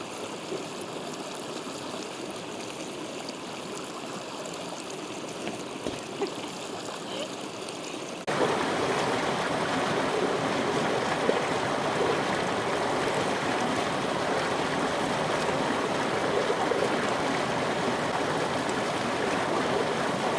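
A creek flows steadily below a rocky overlook in a desert oasis, a broad rushing wash that grows louder and fuller partway through and stays constant.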